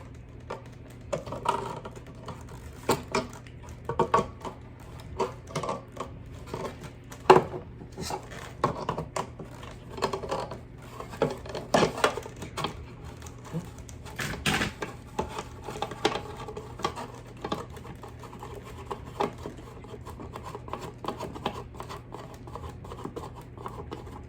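Small metallic clicks, scrapes and taps come in an irregular stream as screws and nuts are worked loose to take a motor off a box, close and fairly quiet over a faint steady hum.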